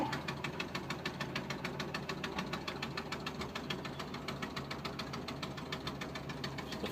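A 1973 VW Microbus Westfalia pop-top camper's 1600cc engine runs steadily at idle, with a close, loud, evenly pulsing knock that continues throughout, no voices over it.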